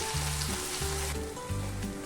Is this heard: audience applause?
no